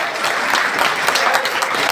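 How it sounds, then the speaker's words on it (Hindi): A crowd at an all-India mushaira poetry recital bursts into loud, sustained applause, dense overlapping clapping close and even across the whole stretch with no speech over it. "जोरदार तालियों से शबीना को बताइए आप इसे सुनो।"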